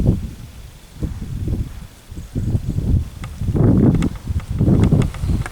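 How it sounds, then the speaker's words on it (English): Gusty wind buffets a microphone outdoors in a garden, producing loud, uneven low rumbling bursts that swell and fade repeatedly, with no talk. "It's a bit breezy today, so there'll be some wind noise as well."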